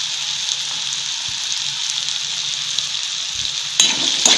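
Dal kanda, a Maharashtrian split lentil and onion dish, sizzles steadily in a pan with turmeric and salt, a continuous close frying hiss that grows louder near the end as the mixture is stirred.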